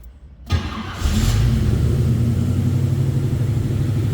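A 1963 Chevrolet Corvair convertible restomod with a fuel-injected 383 stroker engine cranks briefly, then catches and settles into a loud, steady, rumbling idle close by.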